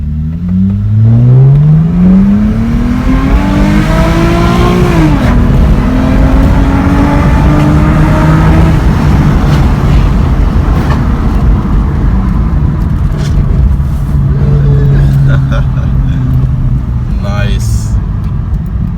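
A Lexus IS250 accelerates hard after a spark plug replacement, its engine revving up through rising pitch before shifting and pulling on, loud and close inside the car, with people talking over it.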